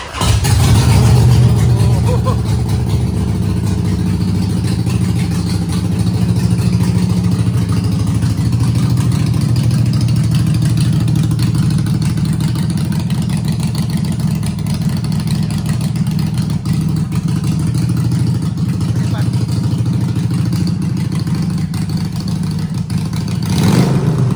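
A Harley-Davidson motorcycle fitted with an aftermarket exhaust runs loud and close, a deep rumbling idle that swells with throttle blips throughout, with no voices heard.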